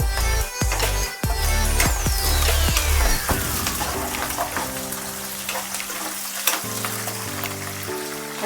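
Dried red and green chillies hit hot oil in a pan for lemon rice, setting off a loud, dense sizzle and spatter that runs steadily throughout, with occasional stirring clinks and no talking.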